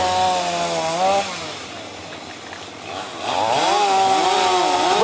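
Chainsaw felling trees during a night-time logging operation in the Casabona forest. The engine whines loudly and continuously, its pitch dipping as the blade bites and rising again as it revs, close by with no speech.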